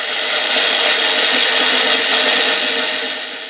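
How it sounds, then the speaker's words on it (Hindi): An electric blender whirs loudly and steadily as it blends tamarind and plum pulp, a dense high-pitched motor roar that holds for a few seconds before easing off, with no voices. "और इसको अच्छी तरह से ब्लेंड कर देंगे।"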